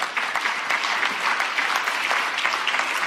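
Dense, steady audience applause from a large crowd at a speech, continuous clapping with no pauses and no voices.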